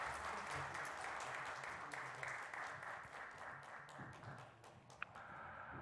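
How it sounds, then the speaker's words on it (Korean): A congregation at a 2021 church ceremony installing a senior pastor and deaconesses applauds, with continuous, even clapping throughout that eases slightly toward the end. "박수로 한번 다시 한번 축복해 주세요"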